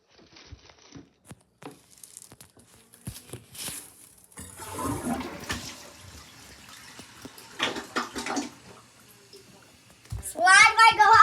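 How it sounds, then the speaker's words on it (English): A household toilet flushes with a rushing swell of water midway through, under and between children's chatter, ending in some louder crinkling and splashing. "I flushed the toilet."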